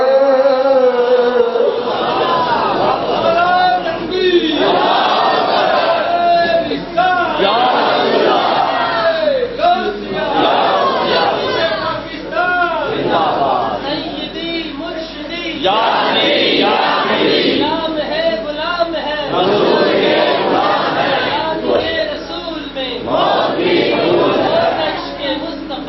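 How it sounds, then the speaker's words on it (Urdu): A large crowd at a religious gathering chants slogans in loud rhythmic bursts, a lead voice and mass responses rising and falling in waves throughout. "یہ جو نعرے ہوتے ہیں یہ بھی بڑے پیارے ہوتے ہیں"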